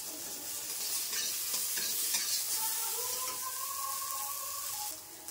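Onions, ginger and crushed green chillies fry in a pan for a Bengali chicken stew, giving a loud, steady sizzle with soft scraping from stirring throughout and no voices.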